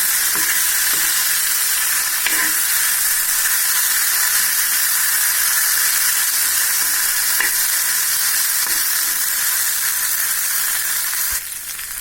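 Taro root (seppankizhangu) pieces fry in a nonstick pan, giving a steady, close, loud sizzle broken by occasional stirring clicks, with no talk.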